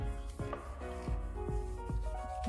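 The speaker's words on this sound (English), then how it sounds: "Just keep rubbing it in." Wax being rubbed into scratched piano black car interior trim, a quiet, close series of rhythmic rubbing strokes, about five in a row with a faint hum beneath.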